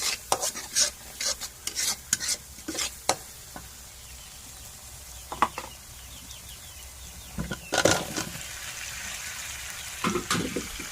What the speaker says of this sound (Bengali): আদার পেস্ট, রসুন পেস্ট, কাঁচামরিচ, পেঁয়াজ, হলুদের গুঁড়ো, মরিচের গুঁড়ো দিয়ে ভালো করে কষিয়ে নিতেছি